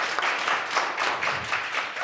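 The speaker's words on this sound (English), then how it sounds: "I'd really just love to just for us all to just applaud Derek and thank him" A room of people at a civic hacking meetup applauds, dense, steady clapping throughout, close and fairly loud with no voices standing out.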